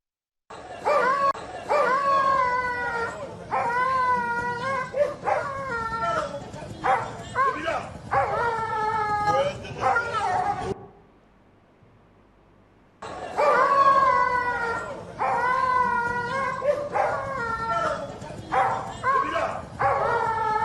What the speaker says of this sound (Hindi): कुत्ते की रोने की आवाज